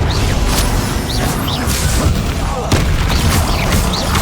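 Spell explosions from the video game Hogwarts Legacy burst one after another, with loud booms and swishing whooshes layered over a dense, continuous roar of combat effects.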